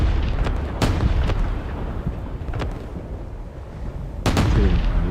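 Artillery pounds in the Space Engineers game during a large battle: several deep, loud booms at irregular intervals over a constant low roar of combat, with no talk.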